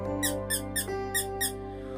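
A voice imitates a puppet's squeaky tone, making five quick high-pitched squeaks in an even rhythm over a steady low hum.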